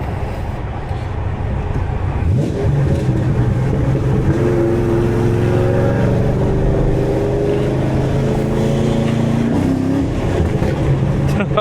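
A cammed fifth-generation Chevrolet Camaro Z28 engine heard from inside the car, idling with a lumpy rumble before accelerating hard with a rising, droning growl that holds for several seconds.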